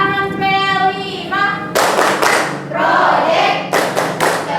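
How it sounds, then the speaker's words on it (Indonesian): A classroom group performs a patterned clapping routine, bursts of loud close claps alternating with voices chanting in unison, in a lively rhythmic call-and-response. "Tepuk tangan P5."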